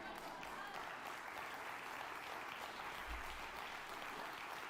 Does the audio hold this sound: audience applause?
yes